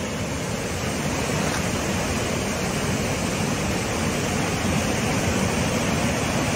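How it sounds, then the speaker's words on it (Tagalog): A waterfall roars as a dense, steady rush of falling water, loud and close, a broadband wash with no breaks and no voices. "ito sa waterfalls po tayo mga idol"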